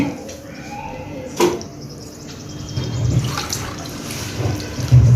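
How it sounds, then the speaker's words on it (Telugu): Water splashes and pours from a glass into soaking rice in a container in a few uneven bursts, close by, with light clinks of a vessel. "ఒక గ్లాస్ బియ్యం కదా మనం వేసింది రెండు గ్లాసులు నీళ్ళు పోద్దాం"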